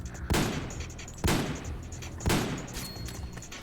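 Three loud, sharp gunshots at an even pace from Meryl's weapon in Metal Gear Online 2, each one followed by a short decaying tail.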